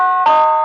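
A single electronic doorbell chime, bright and steady, ringing alone at close range.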